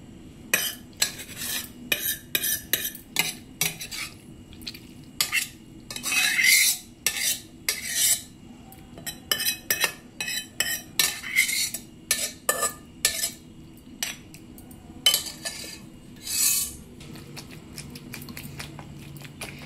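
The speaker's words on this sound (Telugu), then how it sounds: "మిక్సీ వేస్తే మెత్తగా ఉంటుందని, అలా మెత్తగా అయితే బాగోదని ఇలా రోట్లో దంచుతున్నాను." Watermelon seed chutney with tomato and green chilli is pounded by hand in a stone mortar, giving a close, irregular series of sharp thuds and crunchy grinding strikes, some in quick bursts, with short pauses between.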